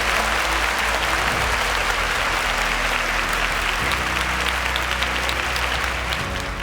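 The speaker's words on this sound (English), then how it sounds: "Can we give him a round of applause?" Sustained audience applause for a quiz show contestant on a televised competition, loud and steady throughout with dense clapping and faint crowd noise beneath, tapering slightly at the end.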